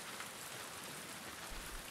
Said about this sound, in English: How does anyone stay dry in this city?